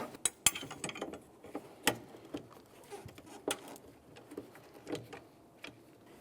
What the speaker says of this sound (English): Just get in these other 2 mounting bolts real quick.